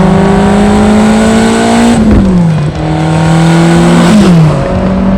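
A powerful twin-turbo V8 engine in a Lotus Esprit V8 drones loudly from inside the cabin, its pitch climbing steadily through the revs before dropping briefly at each gear change.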